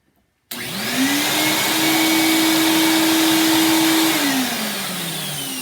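A vacuum cleaner sucks a string through a pipe during a Snapper RER rear-engine rider mower rebuild; the motor starts abruptly, winds up to a loud steady whine and roar, then begins to spin down.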